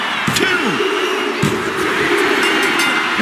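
A virtual arena crowd in WWE 2K25 roars in a steady, dense wash throughout, with brief swells of cheering during a Roman Reigns match; no one speaks.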